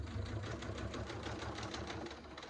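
Sewing machine stitching a back panel, running in a steady continuous burst with rapid rhythmic needle pulses and a low motor hum throughout, close and moderately loud.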